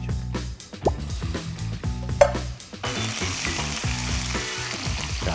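Ingredients for jjamppong are stir-fried in oil over high heat, giving a loud, close crackling sizzle with repeated clanks and scrapes of a utensil against the wok, rising into a denser continuous sizzle for the second half.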